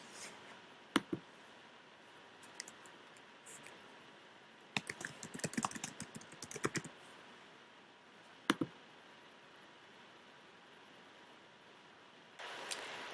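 Faint computer keyboard typing while entering a document title, with a couple of isolated clicks and then a short cluster of keystrokes, quiet and close, without talking.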